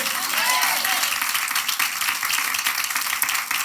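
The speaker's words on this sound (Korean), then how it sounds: "먼저 우리 하나님께 박수로 영광 돌리겠습니다." A church congregation applauds steadily during a Sunday morning service, dense clapping holding at an even level throughout, with some voices mixed in.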